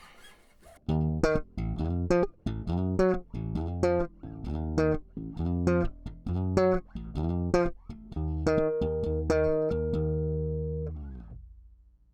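A Sterling StingRay short-scale bass with pickups in series and tone at full plays a run of plucked notes in steady rhythm with a bright, full tone, then lets the final note ring out and fade.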